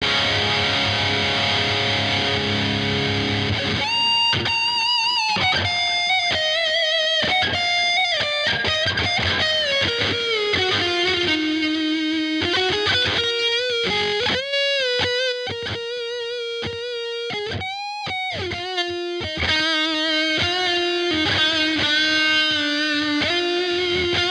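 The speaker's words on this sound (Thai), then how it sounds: "พอเราใส่ดีเลย์แล้วก็รีเวิร์บเข้ามานะครับ มันก็จะมีความฉ่ำ" Electric guitar cover played through delay and reverb effects, a sustained distorted melody line with echoing repeats and a lush tail, loud and alone after a brief opening swell.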